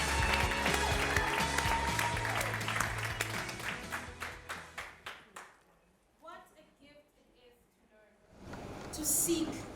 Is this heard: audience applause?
yes